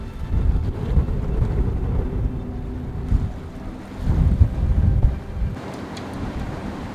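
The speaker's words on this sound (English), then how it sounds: "So we're seeing winds here up to 35 knots so far." Strong wind of up to 35 knots roars steadily across the microphone on an anchored sailboat, with low rumbling gusts, swelling louder for a moment midway, with no voices.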